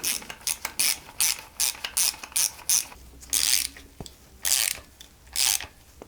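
Ratchet wrench clicking in quick bursts while tightening camshaft nuts on a Peugeot 205 GTI during valve clearance adjustment, close and loud, short repeated strokes with brief pauses, no talk.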